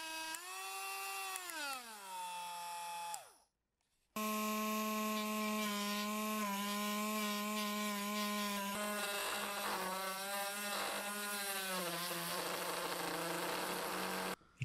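A variable-speed rotary tool with sandpaper clamped in sands glue off the edges of a painted chest of drawers. Its steady, close, high motor whine shifts in pitch, cuts out briefly, then runs on, with no talk.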